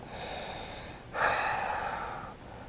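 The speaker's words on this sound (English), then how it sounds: "Three more breaths." During a power yoga pose done with weights, a person takes deep, audible breaths close by: a softer airy breath followed by a stronger, longer exhale rushing out for about a second, with no speech.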